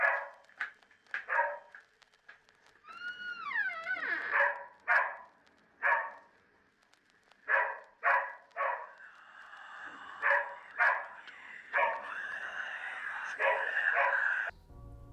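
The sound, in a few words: dog barking in found footage tape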